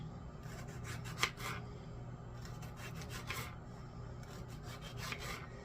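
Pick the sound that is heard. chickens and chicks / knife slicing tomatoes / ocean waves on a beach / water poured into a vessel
knife slicing tomatoes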